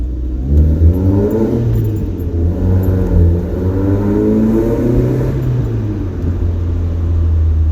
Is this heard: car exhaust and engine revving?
yes